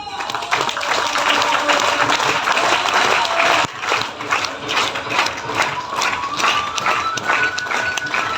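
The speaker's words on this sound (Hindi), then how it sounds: "तो एक बार थोड़ा सा ताली वाली आप बजाएंगे" Seminar audience in Bareilly applauding, dense rapid hand clapping from a large group that breaks briefly midway then resumes, with a voice speaking over parts of it.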